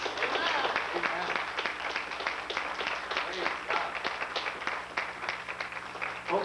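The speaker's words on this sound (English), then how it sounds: "Let's give Jesus a hand clap." Steady rhythmic hand clapping comes from a church congregation at an Easter service, continuing at moderate volume while voices speak over it.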